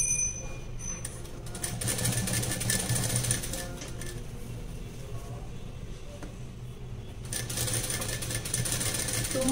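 A sewing machine stitches gold lace onto a blouse, whirring in quick continuous runs that pause now and then, fairly close, while someone talks over it.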